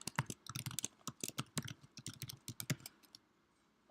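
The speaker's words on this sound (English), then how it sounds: "I'll be typing everything in here." Fast typing on a computer keyboard, a dense run of crisp close clicks for about three seconds before stopping, quiet and alone.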